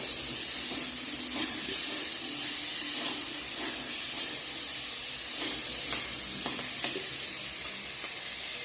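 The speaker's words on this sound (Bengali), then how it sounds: "আলু ভাজাটা বসে দিয়ে দিলাম এদিকে" Potatoes fry in a pan with a constant close sizzle and occasional stirring scrapes, with no talking.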